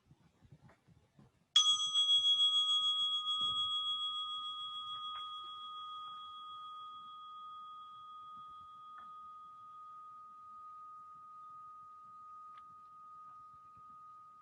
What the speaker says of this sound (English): until the chime is no longer sensed or perceived